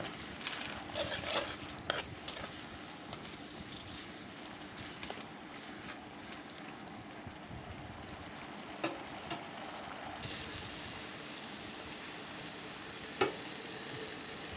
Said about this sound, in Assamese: এইখিনি ভালদৰে এতিয়া লৰাই দিম।